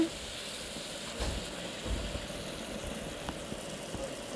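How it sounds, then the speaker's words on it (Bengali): Fried rohu fish belly pieces are stirred with spices in a pan, giving a faint, steady sizzle with soft scraping bumps from the stirring. "এবার আমি ভেজে রাখা মাছগুলো দিয়ে দিলাম মাছগুলো দিয়ে মশলার সঙ্গে ভালোভাবে নেড়েচেড়ে মিশিয়ে নিয়ে"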